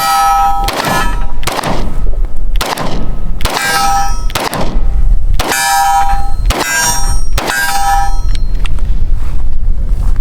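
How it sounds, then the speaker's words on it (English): Pistol shots from a Glock at a firing line ring out in a steady series of about eight sharp, loud reports spaced roughly a second apart, each with a metallic clang and short ring-out, and no talk between them. "I don't shoot Glocks that often, so we'll see how this goes."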